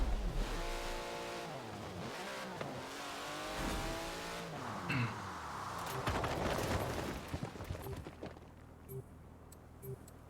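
In Forza Horizon 4, a car engine revs and climbs through the gears with rising and falling tones, followed by tire squeal and fading engine noise. The sound is moderately quiet overall.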